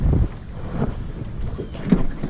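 Wind buffets the microphone on open water during a crappie fishing trip from a boat, a low steady rumble with a few heavier gusts and no talk.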